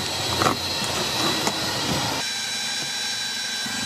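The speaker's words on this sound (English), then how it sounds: "it said to run the engine for 3 minutes so that the oil obviously gets warmed up" A boat's engine runs steadily while warming up, a continuous low mechanical drone with a couple of brief knocks early on and no talk over it.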